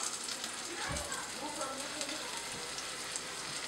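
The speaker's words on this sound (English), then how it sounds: "Fry all that baby up." Homemade alkaline patties fry in grease in a pan, giving a faint, steady crackling sizzle with a soft thump near the start, quiet and close.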